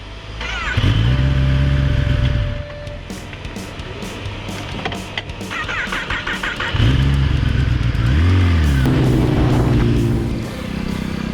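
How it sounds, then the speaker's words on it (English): Kawasaki ZX10R superbike with its stock exhaust revving hard in repeated throttle blips, loud and close, with deep rising and falling engine swells and no talk over it. "ಇದು stock exhaust,"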